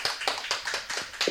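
A church congregation at a weekday lecture gives a short burst of applause, many hands clapping in quick, uneven bursts that sound close and moderately loud.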